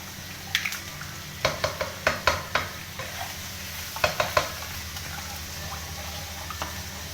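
Two whole eggs fry with vegetables in a pan under a steady close sizzle, with bursts of spatula scrapes and clinks against the metal as the mixture is stirred and no one speaks.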